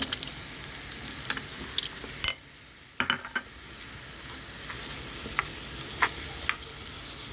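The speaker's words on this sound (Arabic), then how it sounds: "اول ما هتسيح السمنة بتاعتي هنزل عليها ببصلاية عشان احمرها" Onion fries in melted ghee with a constant bright sizzle, while a utensil is stirred back and forth with scattered scrapes and knocks. A short quieter gap falls partway through, then frying and stirring resume.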